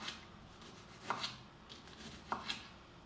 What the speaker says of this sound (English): I'm going to dice everything. I'm going to start with tomato